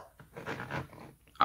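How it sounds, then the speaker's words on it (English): Dogs pant in quick, breathy bursts close by, with a low rough growl mixed in, short and moderately quiet. "Excuse the dogs"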